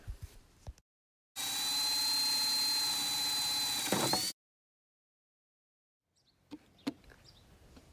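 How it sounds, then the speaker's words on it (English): A 3/4 inch paddle bit bores into a plastic Dollar Tree flower pot lid, giving a single sustained high whine of about three seconds with a steady pitch that dips as it finishes, then faint handling clicks. "Break out the 3/4 inch paddle bit and go to work on the lid"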